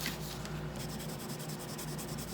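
A pencil or marker scratches across smooth copy paper in quick repeated strokes, a close, faint, rhythmic rubbing texture with no talk over it.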